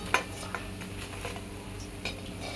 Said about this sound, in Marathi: आता आपण ह्या भज्यांना बाहेर काढून घेऊया, सर्व करूया. तेल नितळून झारणीतून व्यवस्थित